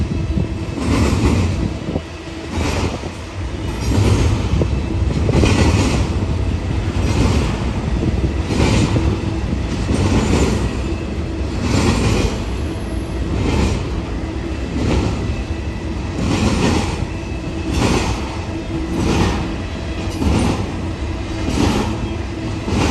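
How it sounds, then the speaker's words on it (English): BNSF intermodal train locomotives climbing through Sullivan's Curve on Cajon Pass, heard as a loud, steady diesel rumble with rhythmic pulsing throbs and a continuous rail clatter for the whole stretch. "Those locomotives are starting to go up through Sullivan's Curve right there."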